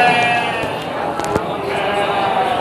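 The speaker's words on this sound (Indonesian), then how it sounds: "di depan saya ini adalah lapak dari domba Garut betina ya" Garut sheep bleating at a sheep market, a loud, sustained cry up close with other animals and market noise continuing underneath.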